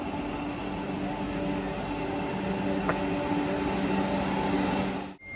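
A Vande Bharat Express, an Indian-built train with engines at both ends, runs on the railway track at Amb Andaura: a steady, loud, even rumble with faint whining tones throughout, cutting off abruptly at the end, with no voices.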